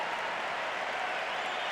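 A tennis crowd at the 2019 US Open quarterfinal between Medvedev and Wawrinka applauds in a steady, soft, distant wash of clapping that holds evenly throughout.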